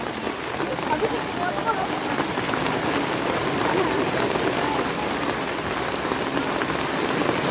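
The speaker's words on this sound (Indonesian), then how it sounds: "hujan mulai deras teman-teman ya" Heavy rain pounds down on surfaces outdoors as a constant, loud rushing patter, with faint voices murmuring underneath.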